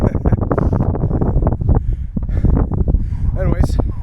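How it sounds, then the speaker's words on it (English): Strong wind at the top of a hill on an autumn walk buffets the microphone with a steady rushing roar, while a person talks over it for the whole stretch. "there is so much wind"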